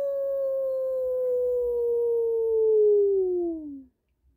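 A single long howl imitated by a human voice, holding a steady tone before sliding downward and fading out.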